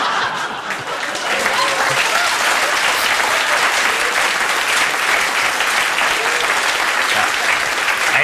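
A theatre audience at a comedy show claps in sustained, dense, loud applause that builds after the first second, with a few chuckles mixed in.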